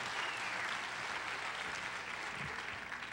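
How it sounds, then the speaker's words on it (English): Steady applause from an employee service day audience, dense and even throughout, fairly distant with no voices on top, tapering slightly at the very end. "let's give a round of applause to the Employee Advisory Council"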